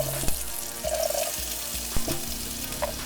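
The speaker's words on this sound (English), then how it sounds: "We're adding a little bit of olive oil, then our butter." Olive oil and butter heating in a sauce pot, giving a steady close sizzle and hiss with a few light clinks of a utensil against the pot.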